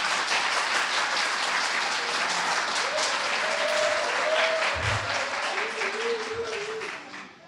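Audience applause at an art history lecture, a sustained burst of many hands clapping that fades out at the end, with a voice speaking over it.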